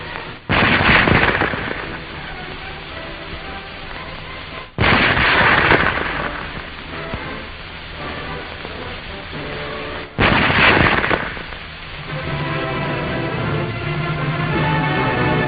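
Mauser Model 98K bolt-action rifle firing outdoors: three loud single shots spaced about five seconds apart, each a sharp report followed by a rolling echo and bolt-working sounds in between.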